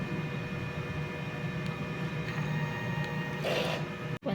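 A DTF printer runs a print head clean, giving a steady mechanical hum and whir with tonal motor whine. Near the end there is a brief louder burst of spraying hiss, then a sudden drop to silence.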